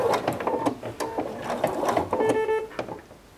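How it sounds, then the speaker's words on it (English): Sewing machine stitching a quarter inch seam around fabric for a bread basket, with short bursts of fast, whirring needle clatter and brief pauses between runs, close and clear. "going to just stitch a little bit and just slowly turn your fabric going around, doing that 1/4 inch seam"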